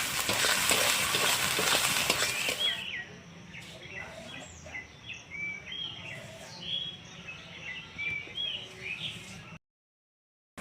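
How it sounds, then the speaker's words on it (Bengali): Tomato with turmeric frying in a pan for a sea fish curry, a loud steady sizzle at first that drops to a softer crackle with stirring and occasional chirps in the background. "সুন্দর মতন বেজে নেব টমেটোটা"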